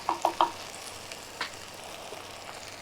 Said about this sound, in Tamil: ஒரு 5 நிமிஷம் அந்த தக்காளி அந்த மசியல் வர்ற வரைக்கும் நம்ம அப்படியே வேக வச்சு எடுத்துடலாம்